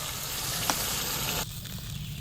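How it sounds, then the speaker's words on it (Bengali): Fish heads frying in hot mustard oil give a close, steady sizzle that drops noticeably softer partway through as the pieces are turned. "এবার উলট পালট করে কাঁচা ভাব দূর হলেই মাথা ভাজা রেডি।"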